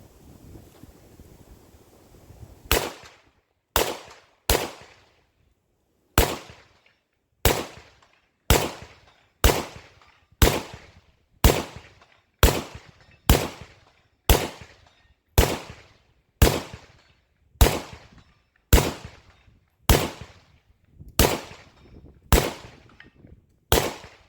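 A PSA AK101 rifle firing Tula 55-grain ammunition outdoors lets off about eighteen sharp, loud single shots at a steady, unhurried pace of roughly one per second, with light wind noise between them.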